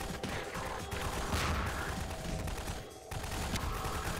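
Rapid bursts of gunfire from a Garry's Mod prison-break match run through the whole stretch, dense and continuous with a brief dip near the three-second mark.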